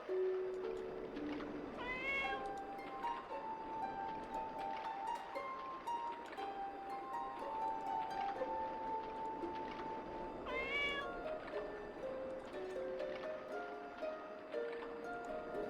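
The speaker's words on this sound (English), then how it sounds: "That's the in-game cat." In-game cat meowing in the Dragon Quest X video game, a couple of clear, drawn-out meows spaced several seconds apart over soft background game music.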